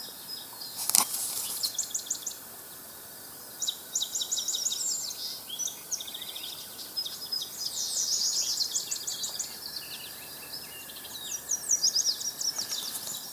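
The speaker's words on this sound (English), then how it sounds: "I'm listening to all the wildlife, all the blackbirds." Blackbirds sing and chirp in repeated bursts of high, warbling phrases, moderately distant, over a quiet outdoor background with a faint steady insect-like tone and frogs calling.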